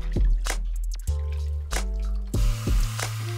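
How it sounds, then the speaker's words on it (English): A hairbrush scrubbed by hand in a sink of shampoo-soapy water, giving a run of close, wet squishes and drips in uneven bursts with short pauses between them, with no talking. "And now we clean the brush with our hands."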